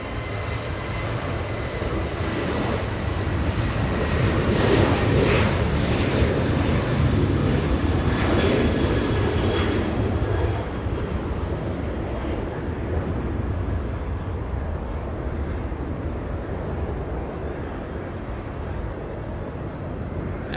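An Air Canada airliner takes off from Los Angeles International Airport with a steady, loud jet engine roar and wind buffeting that hold for the whole stretch, no voices on top.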